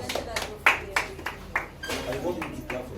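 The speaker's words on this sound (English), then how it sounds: "Clap, ladies, clap." Scattered hand claps from an audience at the 2023 AFIS award ceremony in Lagos, a few sharp close claps standing out while people keep talking over them.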